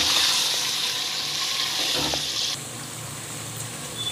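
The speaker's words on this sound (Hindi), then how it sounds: "हमारा मटन 7-8 मिनट हो चुके हैं भूनते हुए देसी घी में" Fresh mutton sizzles steadily in desi ghee in a pan for a Hyderabadi korma, a close, bright hiss that drops slightly in loudness partway through and then continues evenly.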